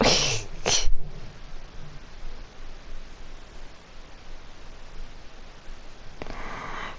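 A couple of quick, sharp sniffs before a sneeze near the start, followed by quiet breathy stillness and another brief sniff near the end.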